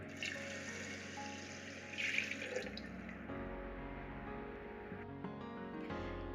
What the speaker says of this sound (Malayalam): ഇത് ഞാൻ കുക്കറിലോട്ട് ഒഴിച്ചു കൊടുക്കുകയാണ്.